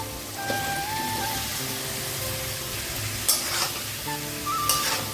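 Fried pumpkin and potato pieces being stir-fried with cooked-down spice masala for a Bengali prawn curry, a continuous crackling sizzle with spatula scrapes and a few louder bursts.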